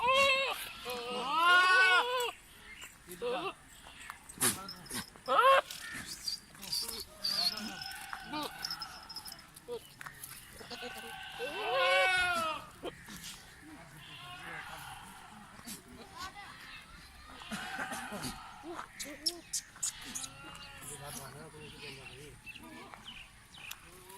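Goats bleat repeatedly on a goat farm in Sajawal, with loud nearby calls in clusters and fainter bleats scattered around them while people talk in the background.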